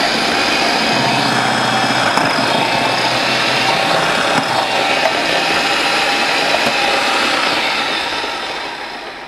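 An electric food chopper chops onion for shrimp ceviche, with a loud, steady motor whir and blade buzz running continuously before it tapers off near the end.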